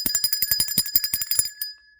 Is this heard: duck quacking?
no